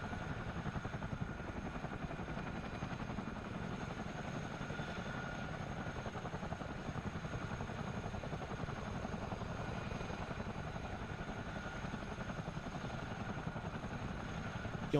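A CH47D Chinook helicopter taxiing in Microsoft Flight Simulator 2020 gives a continuous, steady rotor thrum and turbine drone at moderate level, unchanging throughout with no talking.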